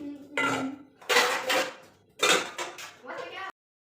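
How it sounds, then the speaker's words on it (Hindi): Dishes, bowls and utensils are set out in a home kitchen, and the clatter of metal and ceramic comes in several close bursts of clinking and scraping. "तो अब मैं लगाऊंगी ये बर्तन, और बर्तन लगाने के बाद फिर करूंगी बर्तन साफ।"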